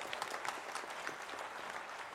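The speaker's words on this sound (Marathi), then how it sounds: "जोरदार टाळ्या होऊन जाऊ द्या" An audience at an entrepreneurship campaign's anniversary ceremony applauds in a steady patter of many hands clapping, faint and distant, with no voices over it.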